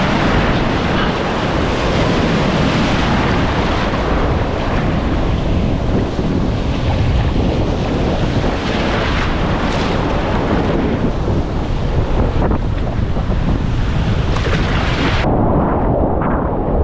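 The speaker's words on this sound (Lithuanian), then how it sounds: "Bangos kokios geros." Sea waves roll onto the beach at Šventoji on a windy day, a loud, unbroken roar of surf mixed with heavy wind buffeting, easing slightly near the end.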